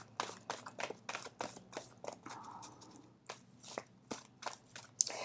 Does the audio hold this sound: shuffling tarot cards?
yes